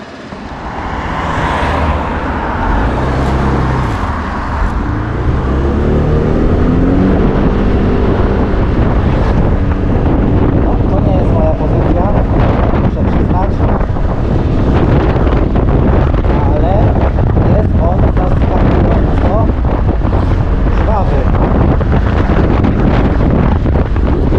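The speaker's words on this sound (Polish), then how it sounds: "To będzie moja pierwsza jazda skuterem" Romet GT 125 Max scooter on the move, a steady engine drone under heavy, continuous wind buffeting against the microphone throughout the ride.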